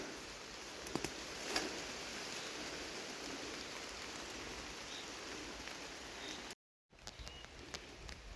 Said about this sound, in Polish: Troszkę deszczyk jeszcze pada